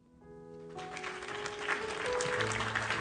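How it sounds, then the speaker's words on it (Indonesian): Audience applause after a talk on letting go, a steady wash of clapping that swells and holds, with a faint tonal hum underneath. "Tepuk tangan dulu."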